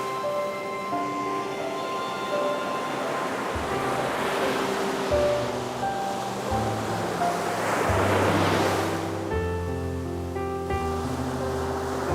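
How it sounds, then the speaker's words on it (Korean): Ocean waves wash onto the rocky shore by Dongbaek Island at Haeundae, Busan, in a soft continuous surge with swells rising and falling, under a gentle music bed. "파도 소리에 귀를 기울이고 있으면 마음의 시름이 절로 사라지는 것 같습니다"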